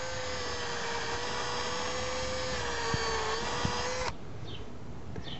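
A power drill bores into wood for a raised bed, a loud, steady high whine that holds for about four seconds before cutting off abruptly, with faint knocks near the end.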